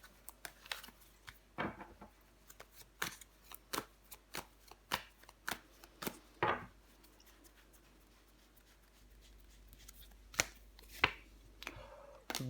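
Tarot cards handled and laid down, a run of quiet close crisp flicks, slaps and shuffling rustles in an irregular rhythm with brief pauses and no talk.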